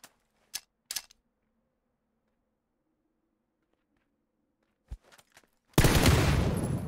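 A PP submachine gun in a battle royale shooter fires a few short, sharp bursts across quiet gaps, then a sustained loud stream of rapid automatic fire.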